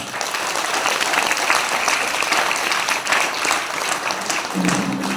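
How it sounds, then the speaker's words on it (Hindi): A large audience at an event honoring a doctor breaks into loud, sustained applause, a thick continuous roar of clapping at a steady level from start to finish. "हम चाहेंगे उनके लिए एक जोरदार ताली।"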